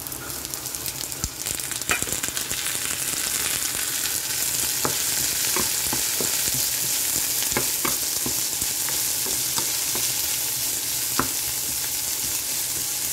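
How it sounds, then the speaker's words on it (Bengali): Chopped vegetables sizzle in a hot pan, a loud bright continuous hiss up close, punctuated by scattered clicks and scrapes of stirring. "সবজিগুলো ভাজা হয়ে গেছে"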